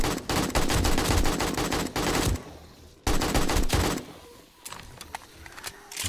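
Rapid automatic gunfire from 7 Days To Die, a zombie survival game during a horde night: two long loud bursts of dense shots, separated by a brief pause, then scattered quieter single shots trailing off.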